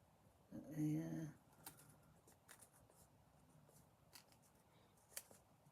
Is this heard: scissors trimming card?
yes